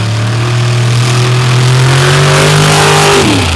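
A drag racing car launching hard down the strip without nitrous, its engine a loud, sustained roar that climbs steadily in pitch before dropping off near the end.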